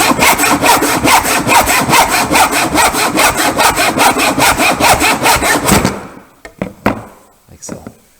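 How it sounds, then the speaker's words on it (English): A tenon saw cutting an angle in a wooden trophy piece, with steady, rhythmic back-and-forth strokes for about six seconds, close and loud, before a few light knocks. "we're going to use tenon saw for this angle here also"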